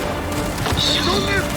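In the video game Gears 5, a frag grenade goes off with a short, sharp blast and crackling debris partway through, amid game sounds and a player's voice talking.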